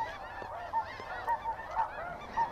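Snow geese honk repeatedly during a November hunt, a flock calling in overlapping, nasal honks at a moderate distance, steady and continuous over a quiet outdoor background.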